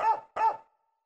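Two quick, close dog barks play as a musical instrument in the video game Wii Music. They are loud and clipped, the second following right after the first, then a short ringing fade into silence.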